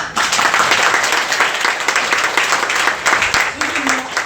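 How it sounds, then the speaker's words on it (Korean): A church congregation claps together in a sustained, dense round of applause that holds steady throughout, with a brief voice near the end. "박수 한번 쳐주세요"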